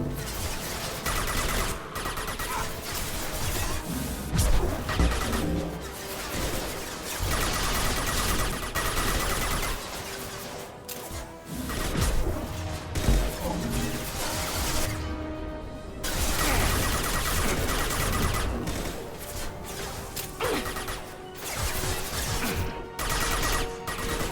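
Rapid weapon fire in the Mass Effect 2 video game, with dense bursts of gunshots, crashes and impacts rattling on continuously, loud and close throughout with brief lulls.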